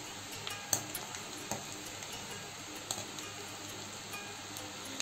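Chickpea snacks deep frying in hot oil give a soft, steady sizzle, with occasional faint clinks from stirring mixed in.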